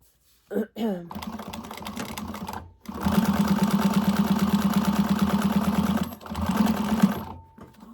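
A sewing machine top-stitches the gusset seam of a fabric bag in close, steady runs: a short burst, then a long continuous stitching run of about three seconds, a brief pause and a final run, with light handling between.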